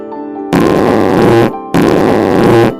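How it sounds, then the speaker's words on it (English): Two loud, drawn-out fart noises, each lasting about a second, come one after the other with a short gap, over faint music. "Fart."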